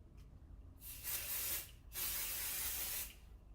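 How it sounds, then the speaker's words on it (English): Two steady bursts of craft pixie spray hiss close up, the second one longer, with a brief puff before them. "I'm actually low on pixie spray."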